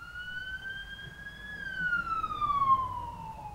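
An ambulance siren wails in a slow rising then falling tone, moderately loud, heard alone with faint background rumble.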